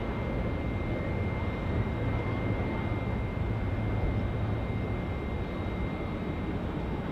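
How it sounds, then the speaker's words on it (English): ATR turboprop airliner taking off from runway 23 at Auckland Airport, a loud steady engine roar and propeller drone with a constant high whine, sustained throughout without talk. "Palmerston North, destination of choice now for the ATR service here, just getting away off runway 23."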